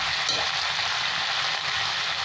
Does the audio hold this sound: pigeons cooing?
no